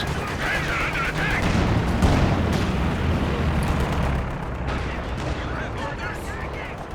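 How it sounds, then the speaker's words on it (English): Tank guns and other weapons fire in a 2v2 Company of Heroes 2 battle, making a dense, continuous rumble of heavy booms and shots. A commentator talks over the fighting. "Tank guns there."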